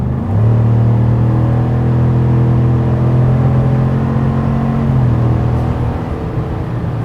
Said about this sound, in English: You hear the shifting on that 10 speed?